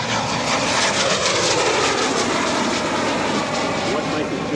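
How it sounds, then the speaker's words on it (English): Messerschmitt Me 262 jet fighter flying a porpoising maneuver at an airshow, its engines producing a loud, continuous broadband roar that stays steady throughout, with a commentator talking over it. "What Mike is doing right now is a porpoising maneuver that was used routinely by the Messerschmitt 262."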